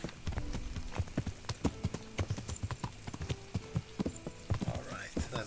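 Horse hooves clip-clopping in the video game Kingdom Come: Deliverance, a steady walking rhythm of crisp knocks, close and clear over a low ambient bed, with someone talking quietly at points.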